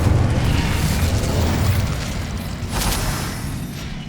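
Incendio fire spell cast in Hogwarts Legacy, a dense, loud whooshing roar of flame with a burst near the end, continuous throughout and without any voices.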